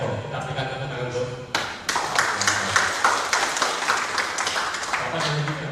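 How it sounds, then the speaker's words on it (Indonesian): Audience applause at a Javanese karawitan gamelan reunion gathering, a dense crowd clapping that swells in after a brief pause and holds steady over a murmuring room. "Kita berikan tepuk tangan untuk"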